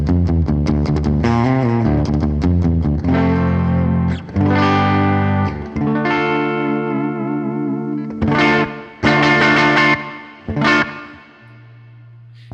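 Donner DST-400 electric guitar played with clean surf tones, picked notes and strummed chords ringing with chorus and reverb in bursts separated by short pauses, loud and close with no talking.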